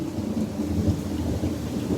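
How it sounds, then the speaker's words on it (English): Heavy thunderstorm with continuous low rolling thunder over steady pouring rain, loud and unbroken for the whole stretch, with no voices. "There is a bunch of thunder, and I can barely hear myself talking."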